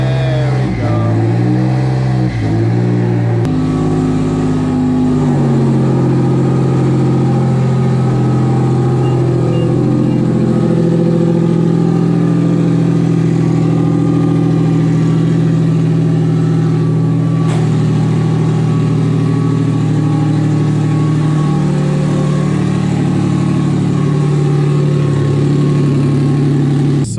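A boosted Nissan VQ35HR engine on E85 fuel revs on a dyno. It gives a loud, sustained, close-up drone with a few quick blips at the start, then holds a steady high-load pull with shifting pitch.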